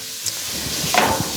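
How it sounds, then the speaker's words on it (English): Chicken pieces frying in hot oil in a pan give a steady, close sizzle with faint stirring knocks, a brief brighter crackle surging near the end. "if you can hear that sizzle of that chicken."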